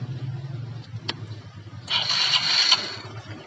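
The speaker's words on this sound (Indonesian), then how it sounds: "Nah motor kita nyalakan lagi." A motorcycle engine, its carburetor just adjusted, cranks and catches partway through, rising into a loud, rough running roar after a brief quiet lead-in of low rumble and a single click.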